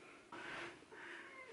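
A house cat meows twice indoors, two drawn-out plaintive cries close by and fairly soft, with a short break between them.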